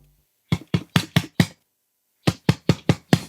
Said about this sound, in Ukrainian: І якщо по її просто бити, вона буде видавати такий дерев'яний е, звук